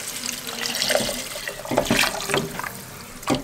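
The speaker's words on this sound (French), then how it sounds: "Donc les 2 cubes de bouillon de bœuf et 1 litre d'eau." Water runs into a cooking pot for a beef-stock bean soup, a steady splashing pour with bright wet bursts, close and alone without talk.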